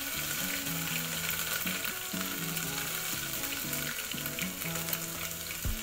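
Ginger-garlic paste fries in hot oil for a home-style drumstick amti tempering, a dense, steady sizzle heard up close with faint stirring under background music.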